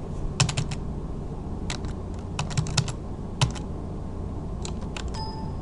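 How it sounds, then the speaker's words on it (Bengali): An IP address being typed on a computer keyboard in Windows settings, quick clusters of close, crisp key taps with short pauses between bursts. "এখানে সম্পূর্ণভাবে টাইপ করুন"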